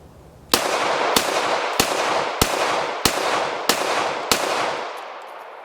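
A Smith & Wesson M&P 2.0 Metal handgun fires seven sharp, loud shots at an even, fairly quick pace, each crack followed by a ringing outdoor echo that overlaps the next.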